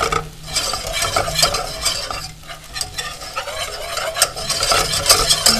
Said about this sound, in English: I'm just stirring this around. As you can see, the cheese is melting.